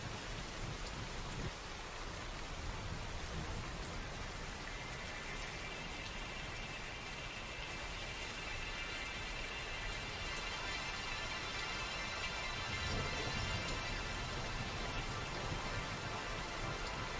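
Rain run through the Scaler EQ app on iOS, tuned to a C major setting: a dense, steady hiss of falling rain with faint ringing tonal overtones, continuous and even throughout.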